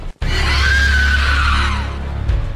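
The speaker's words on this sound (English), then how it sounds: "Ah, she screamed again" Ghost woman in a horror video game lets out a long, shrill, wavering scream that rises then trails off, loud over a deep droning low rumble.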